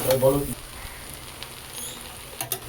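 Potatoes fry in a pan for aloo posto, a close, steady sizzle with a louder clatter at the start and a brief stir near the end.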